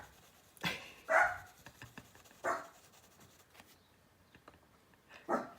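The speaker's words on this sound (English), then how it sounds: "What are you barking at, Woo?" A small Jack Russell terrier barks indoors, four sharp separate yaps spaced irregularly over a few seconds, fairly close, with a quiet room behind them.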